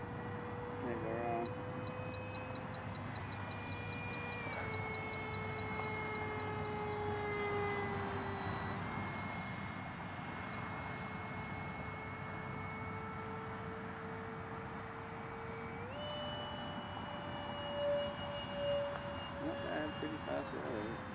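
A Kondor Model Products F-18 model jet flies past with a sustained engine whine that shifts pitch as it passes, steady and fairly loud at an outdoor flying event, with people talking over it.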